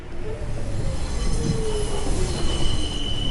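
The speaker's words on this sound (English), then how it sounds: "The train glided up to the platform." A train pulls up to a station platform in the video game 428: Shibuya Scramble, its wheels squealing with long high metallic tones over a steady rumble and rattle, close and loud throughout.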